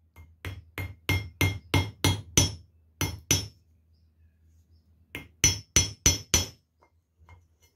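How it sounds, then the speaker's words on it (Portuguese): A 2 mm nail is hammered in as a pin, sharp metallic clinks ringing out in two quick rapid runs of about nine and five strikes, separated by a short silence, close and loud with nothing else heard. "Vou colocar o preguinho aí. Lembrando, pessoal, estou usando preguinho de 2 milímetros aí."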